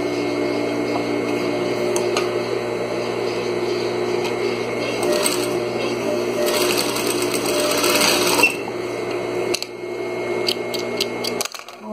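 Sewing machine stitching a fabric table runner with ruffles and pleats, running steadily and close for most of the stretch, with a brief pause and a few short restarts near the end.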